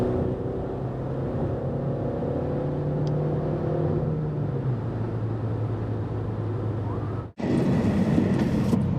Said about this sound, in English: driving down the east side of Poland right now